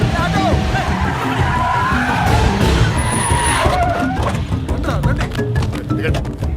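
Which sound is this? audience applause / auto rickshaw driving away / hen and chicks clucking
auto rickshaw driving away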